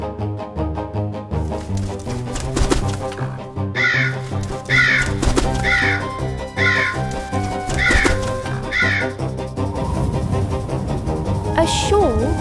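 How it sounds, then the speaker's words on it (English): Repeated crow caws, several evenly spaced calls, sound over a busy musical score with a voice in a dramatized Through the Looking Glass scene, fairly prominent against the music. "It's the crow. It's the crow!"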